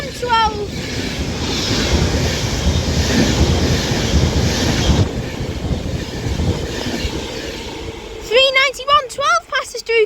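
An Avanti West Coast Class 390 Pendolino passes through Kidsgrove station, a loud rushing roar with wind buffeting that sweeps past and fades, followed by high-pitched whistling squeals near the end.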